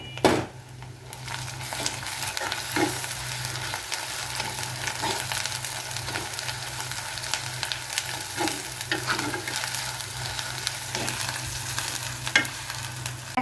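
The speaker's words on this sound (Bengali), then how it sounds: "পেঁয়াজটা যখন ভাজা হয়ে গেছে দিয়ে দিলাম একটু রসুন পেস্ট" Garlic paste sizzles and fries with browned onions in a clay pan, a steady crackling hiss broken by occasional scrapes and stirs of a spoon against the earthenware, with no talking.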